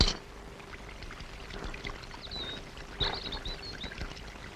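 Sambar is poured carelessly from a vessel, a soft, faint splashing trickle over a few seconds with a small burst partway through and light chirps in the background.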